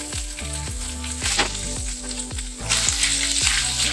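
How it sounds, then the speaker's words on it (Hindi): Small paneer cubes sizzling and frying in hot oil in a pan for a methi paneer sabzi, a loud close crackle with stirring clatter throughout, no voice. "तो अब इसमें डालेंगे हम पनीर।"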